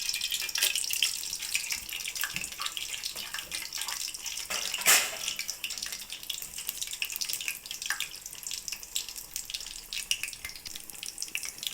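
Whole spices, cinnamon and shahjeera, fry in hot oil with a hissing, crackling sizzle that rises in bursts and settles, close and uninterrupted by speech.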